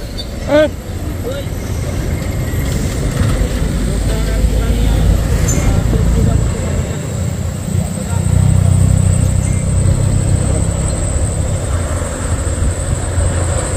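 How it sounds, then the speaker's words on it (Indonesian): A Scania truck trailer's engine drones low and heavy as it labors up a steep hill road at Bukit Kodok, a constant loud rumble with surrounding traffic noise and voices talking nearby. "Habis napas trailer Scania."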